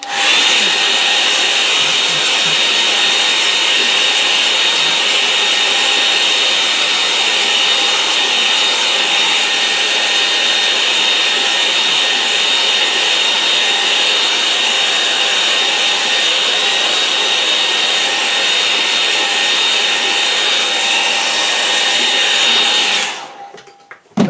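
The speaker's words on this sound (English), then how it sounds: "where's my hairdryer gone?" A hair dryer runs continuously at close range, a loud steady whooshing whine that holds unchanged for over twenty seconds before cutting off abruptly.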